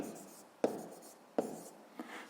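A pen writes on paper with faint, close scratching strokes, broken by three sharp taps as the pen meets the page, with quiet speech nearby.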